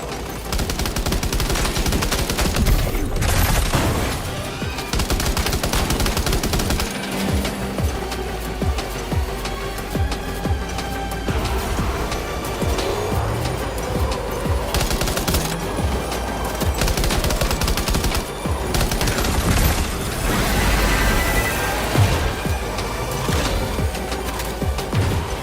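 Sustained gunfire from a weapon fired while driving in the video game Death Stranding 2, with dense rapid bursts running loud and steady throughout over a constant rumbling backdrop.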